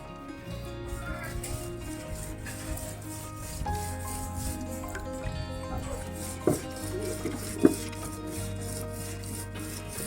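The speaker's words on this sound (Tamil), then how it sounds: "நல்ல மஞ்சள் அரைச்சாச்சு" Turmeric ground by hand on a stone grinder in a village kitchen: a soft, continuous rubbing and scraping, with a couple of sharper knocks of stone on stone, over a faint steady background hum.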